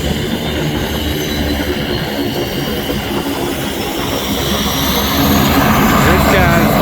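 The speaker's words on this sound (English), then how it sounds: "Alright, so we got this guy starting his engines up." An aircraft's engines start up near a sailing trip to the Dry Tortugas. A loud, steady roar holds and swells slightly toward the end, with a faint whine riding on top.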